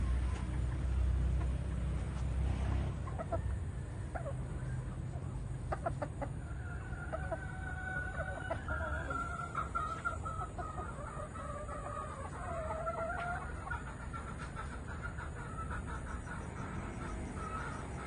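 Blue-legged and green-legged hens clucking outdoors near a shoreline in cold December weather, with scattered calls and the odd crow-like cry over a steady wash of background noise.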